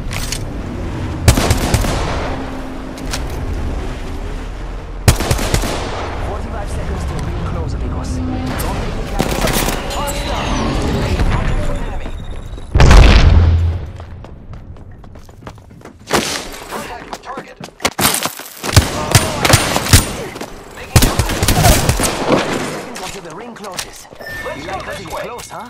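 Gunfire in a squad-based shooter video game, with bursts and single shots crackling through the fight over steady game noise and frequent talk.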